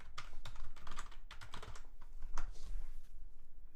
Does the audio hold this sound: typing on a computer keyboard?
yes